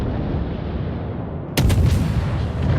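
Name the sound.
British cruiser Black Swan firing gun salvos, World of Warships video game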